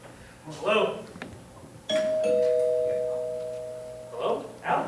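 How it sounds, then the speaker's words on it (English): A doorbell rings indoors with a clear two-tone chime that sustains and slowly fades, while people talk just before and after it. "That's the doorbell, dear, not the telephone."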